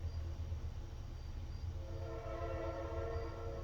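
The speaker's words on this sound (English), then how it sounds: "There's the train." Train rumbling past at a distance with a low steady roar and a faint tonal horn rising toward the end, fairly quiet.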